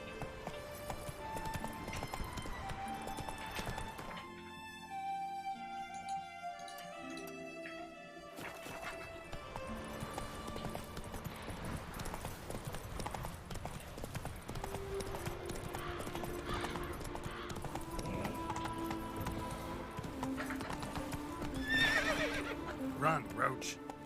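Roach, the horse in The Witcher 3: Wild Hunt, gallops with a steady, fast clip-clop of hooves and whinnies now and then. Game music and a man's spoken commands run over the hoofbeats.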